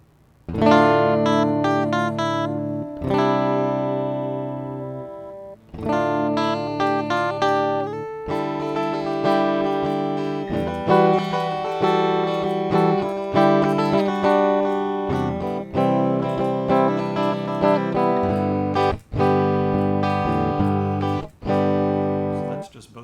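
Harley Benton CST 24 electric guitar, built from a kit, played clean through both pickups: strummed chords and picked notes ringing out with sustained harmonics, loud and close, with brief pauses between phrases.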